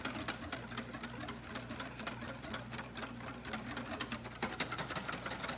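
Pastry cream is whisked briskly in a bowl, a close, steady run of rapid rhythmic scraping and clicking strokes with no talk.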